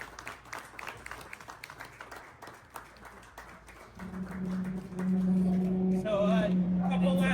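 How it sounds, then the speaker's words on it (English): Audience applause at the National Young Bird Show, a scattered patter of hands clapping that gives way midway to a loud, sustained tone with voices over it. "Give Kelly a round of applause and thank you, her assistant."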